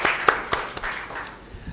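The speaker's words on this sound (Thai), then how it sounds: "ขอเสียงปรบมือดังให้กับนักเทศของเราครับ" A church congregation claps for the preacher, a scattered run of hand claps with a few louder strikes that thins out toward the end.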